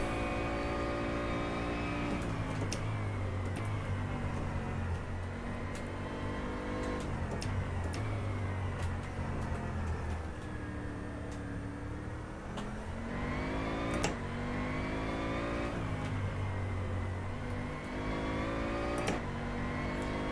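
A Bentley Continental GT race car in rFactor 2 at the Misano circuit drones steadily, its engine pitch rising and falling through gear changes and corners, with occasional sharp clicks and no talk.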